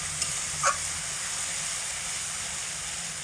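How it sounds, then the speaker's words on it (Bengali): Spice paste for khichuri cooking in a pan after a splash of water is added, a constant steamy hiss and sizzle with a couple of small clicks early on, close and even with no talk. "লঙ্কার বাটিটা ধুয়ে অল্প একটু জল দিয়ে দিচ্ছি এতে করে মশলাটাও কিন্তু ভালো কষানো হবে"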